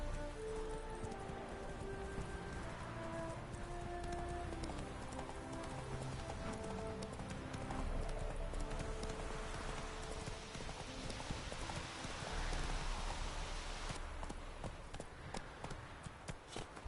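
Roach, a horse in a video game, gallops with steady rhythmic hoofbeats. The hoofbeats run the whole way under music and ambient game sound at a moderate level.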